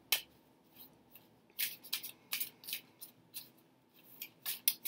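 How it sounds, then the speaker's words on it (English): Crisp, papery riffling bursts repeat in irregular clusters as tarot cards are shuffled by hand close up, with quiet gaps between the flurries. "So let's have a little shuffle."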